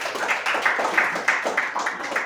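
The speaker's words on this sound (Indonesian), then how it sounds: "Ya, tepuk tangan buat kembali." An audience in a classroom or school session claps hands together, a steady brisk round of applause from a nearby group, with a few voices mixed in.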